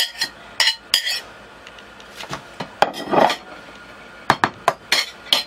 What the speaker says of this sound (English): help me cut in the rest of this butter